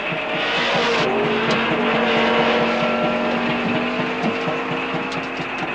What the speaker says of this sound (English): The Budweiser car is re-entering the fray